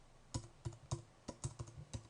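Keys on a computer keyboard tapped about eight times in an uneven rhythm while entering the F5 shortcut in Flash, each stroke a crisp, close click over a quiet room.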